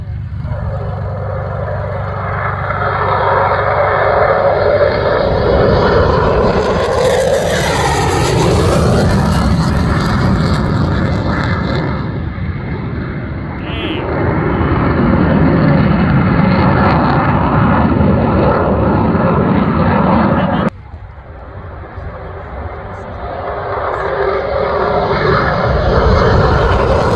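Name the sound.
airplane making a low pass at EAA AirVenture Oshkosh airshow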